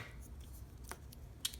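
Scissors cut a strip of tape while a homemade 2x2 Rubik's cube is put together, giving a few faint, quick snips close by over a quiet background.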